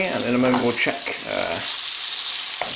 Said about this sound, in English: Now the chicken is sizzling away nicely,